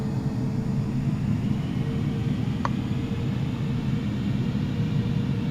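Airliner engines in Microsoft Flight Simulator 2020 spool up for taxi, a steady low rumble and broad roar that holds level throughout, with a faint brief tone midway.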